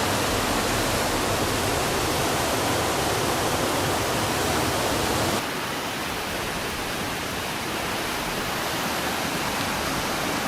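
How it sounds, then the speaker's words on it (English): Floodwater pouring through city streets in Belgium after a few hours of heavy rain, a loud, steady, broadband rush of water that holds constant throughout, dipping only slightly in level partway through. "just a few hours of rainfall turned city streets into a sea of water"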